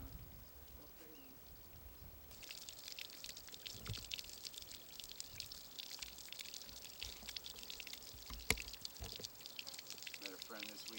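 Running water trickles and pours in a backyard bird water feature at a hand-made home, a faint steady splashing from a short distance, with people talking quietly over it and occasional bird calls.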